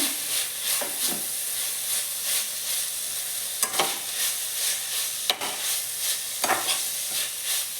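Crushed garlic gets stirred into simmering dal: a steady, close hiss of cooking, broken every second or so by brief scraping sweeps of the spoon through the pot.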